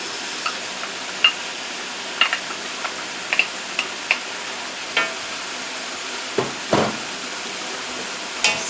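Fried rice with prawns and scallops stir-fried in a hot pan, a steady sizzle under sharp clicks and clacks of the utensil on the pan at an irregular pace, close up and with no talk.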